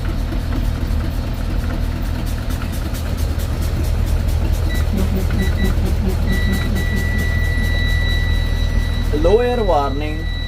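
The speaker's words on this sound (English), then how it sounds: "Low air warning just activated above 60 psi." A bus low air pressure warning sounds during a pre-trip check as a steady high tone that begins partway through, over a loud idling diesel engine, with a person speaking briefly near the end.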